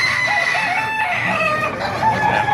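Roosters at a market in Calumpit crow continuously and loudly, with several birds overlapping and clucking in a dense, close chorus.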